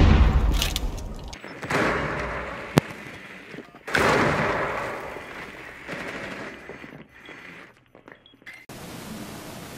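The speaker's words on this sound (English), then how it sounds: "Nitro detonated." A nitro cell detonates in a video game: sharp, loud blasts and booming thuds, with a burst near the start and another around the middle, each trailing off into rumbling debris before a quieter hiss.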